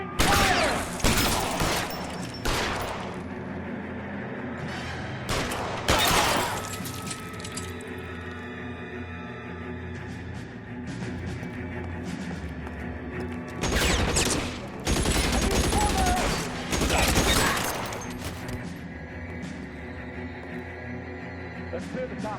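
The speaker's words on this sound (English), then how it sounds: "Covering fire!" Covering gunfire in the video game L.A. Noire crackles in loud, dense bursts, several volleys separated by quieter stretches of background sound.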